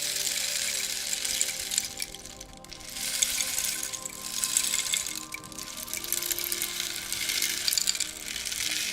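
Soft steady rain patters in gentle continuous waves, swelling and easing, with a faint trickling, watery texture and nothing else over it.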